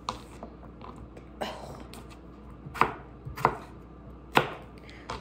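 A knife chops through raw potatoes with skins on, cutting them into fries on a board in a home kitchen; sparse, uneven cuts with a few sharper, louder chops toward the end, close and clear with no talking.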